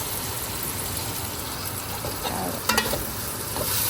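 A whole onion frying in hot oil over caramelized sugar with salt and whole black peppercorns, a dense steady sizzle close by with a brief sharper spatter near the end.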